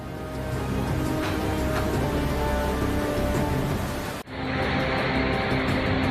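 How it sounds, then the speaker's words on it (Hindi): Heavy monsoon rain in Himachal pours down in a steady, dense roar, loud and close, with a brief dip before the downpour resumes just as strong. "हिमाचल में बारिश रुकने का नाम नहीं ले रही है।"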